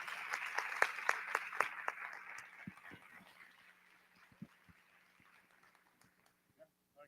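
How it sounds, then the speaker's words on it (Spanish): An audience at a creative design festival in Mexico claps for a speaker from Australia, starting with sharp, close individual claps that thin out and fade to scattered, faint claps and quiet room noise. "Les pido un fuerte aplauso otra vez."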